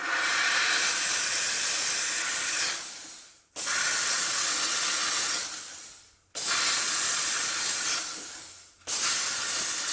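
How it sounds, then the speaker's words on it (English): A dental steamer blasting wax off a Hawley retainer in a lab, three loud sustained hissing bursts of steam separated by brief pauses. "So I'm going to go and steam off this wax that's on here."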